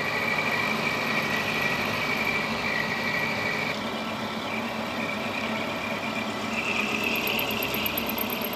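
A metal lathe takes a final light finishing cut while making a lantern tool post, a continuous close machine drone with a faint high whine and a thin squeal of the tool on the metal, steady and unbroken, with no talk.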